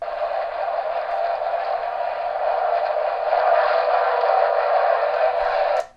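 A Galaxy DX-47HP CB radio with hi-cut filter puts out a steady, loud rush of receiver static for several seconds, then cuts off abruptly.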